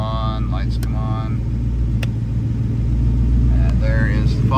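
A 1965 Ford Daytona Factory Five car rumbles steadily from inside the cabin while driving, its low engine drone growing slightly louder toward the end, with a voice speaking over it and brief clicks.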